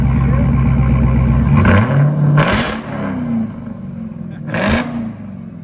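A straight-piped 2021 Dodge Charger SRT Hellcat roars loudly close by, its engine climbing through several hard revs and dropping back between them over a deep, continuous rumble.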